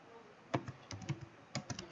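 Code being typed on a computer keyboard for an Android Studio app, quiet close key clicks arriving in two short bursts of several strokes each with a pause between, no talking.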